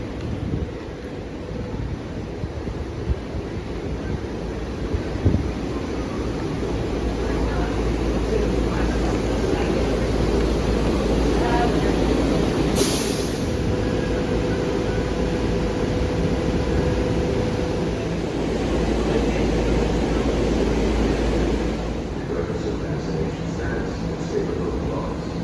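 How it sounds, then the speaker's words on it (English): SEPTA Silverliner IV electric commuter train, built from 1974, with its ventilation fans running in a steady, loud broadband whoosh and low rumble, continuous throughout, with faint background voices. "Just listen to those fans go."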